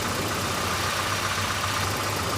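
A Volvo car engine idles and shakes, giving a steady, continuous low rumble with an even hum and no voices.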